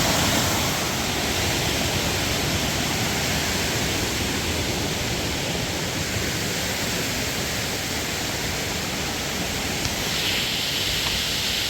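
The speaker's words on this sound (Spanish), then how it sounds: "Acá está la pequeña cascada que hemos encontrado." A small jungle waterfall in Chanchamayo, Peru, pours over mossy rocks with a loud, steady, broadband rushing roar that fills the whole stretch without a break.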